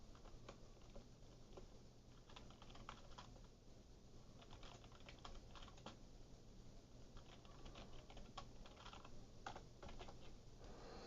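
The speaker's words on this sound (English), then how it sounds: "I'm just typing up a post" Quiet keyboard typing in a Star Citizen trading session, soft irregular key clicks pattering in bursts through a steady low hum, faint and close.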